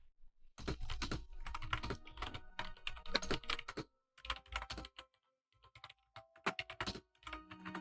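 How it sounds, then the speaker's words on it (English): Loud, close computer keyboard typing in quick clattering bursts separated by short pauses, with no voices over it. "your keyboard is so loud"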